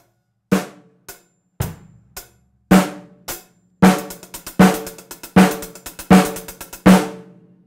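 A drum kit plays a slow lick of separate, ringing hits, spaced apart at first and then more evenly, each one sharp and decaying, with no talk.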